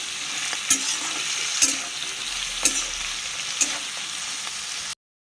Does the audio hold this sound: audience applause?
no